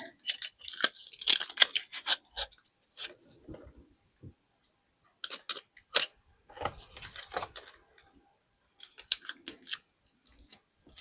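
Scissors snipping tape while decorating a paper planner, a series of close, crisp cutting and crinkling sounds in short clustered bursts separated by quiet pauses.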